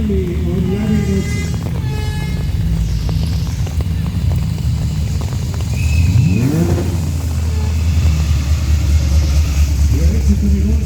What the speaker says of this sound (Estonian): Ja sealt tuleb veel auto.